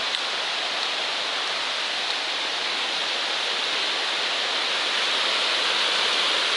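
A creek along the Appalachian Trail rushes steadily nearby, a dense, even hiss of flowing water with no pauses, holding constant loudness throughout.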